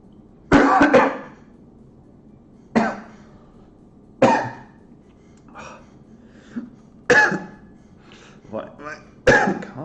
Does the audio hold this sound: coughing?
yes